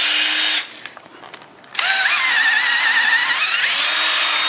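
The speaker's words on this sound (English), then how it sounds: "Now, I'm going to ream these holes a little bit with the drill so I can get the bolt through easier." A power drill reams bolt holes in a plywood-veneered wooden table leg. Its close, loud whine runs steadily, dips briefly, then returns with rising and falling pitch as the bit cuts.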